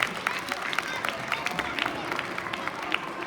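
Children at a school Grandparents' Day celebration clap together in a steady, dense round of applause with faint crowd murmur, moderately distant and sustained throughout.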